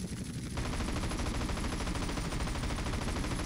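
Rapid, sustained machine gun fire in GTA San Andreas rattling continuously for several seconds, loud and dense, with a steady booming low end typical of game audio.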